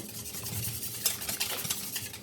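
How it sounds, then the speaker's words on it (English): An egg being whisked in a bowl for vegetable cornbread batter, a quick, steady scraping and stirring of the whisk against the bowl, close and fairly quiet, with no talking. "I'm just going to whisk the egg"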